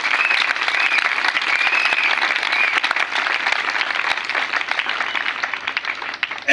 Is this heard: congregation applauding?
yes